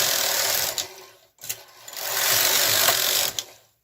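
Brother KH-230 knitting machine carriage sliding back and forth across rows, a loud continuous mechanical whirring rattle in long sweeps broken by brief pauses at each end of the row, with no talking.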